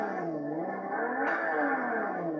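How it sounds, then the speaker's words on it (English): A Ferrari V12 engine revs hard in Project Cars 2, a smooth high-pitched wail that climbs and shifts with steady harmonic tones, loud and continuous with no voices. "This time we're in a Ferrari, and let's listen to that V12 sing."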